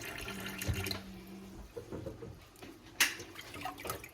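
Water trickles and drips close by, with soft squelching and splashing as rinse water is squeezed out of freshly churned butter, faint and uneven.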